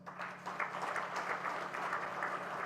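An audience at an anniversary awards ceremony applauds, a steady patter of many hands clapping at moderate volume for a few seconds.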